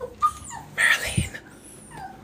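A dog named Merlin gives brief, high whimpers and yips amid a tense scene, with a short burst of noise and faint voices nearby.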